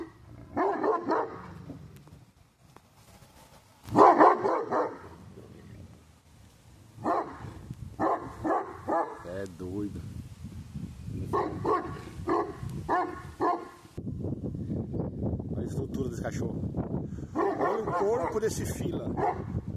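A one-year-seven-month-old Fila dog growls and barks in bursts, loud and close, with pauses between bouts and a continuous rumbling stretch near the end, while someone talks over it.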